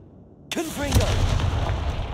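A Confringo blasting spell in Hogwarts Legacy lands as a sharp booming explosion right after a short silence, then rumbles on with crackling debris and a whistling, warbling tail.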